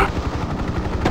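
Helicopter gunship gun firing in the video game Hind 1998, a dense continuous rattle of rapid low shots over engine rumble, loud and steady throughout.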